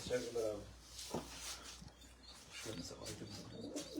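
Pigeons coo softly in a loft, their low murmuring mixed under someone speaking close by.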